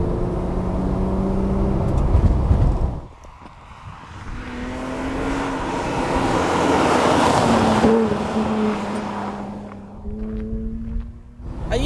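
Alfa Romeo SZ engine while driving: a loud, sonorous engine note rising through the revs, dropping off around three seconds, then climbing again through several gear pulls, close and without talk.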